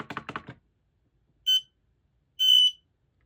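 Two interconnected X-Sense SC07-W smoke and CO alarms beep together to confirm linking, giving two short, bright electronic beeps, the second longer. Brief sound at the start, then quiet gaps between the beeps.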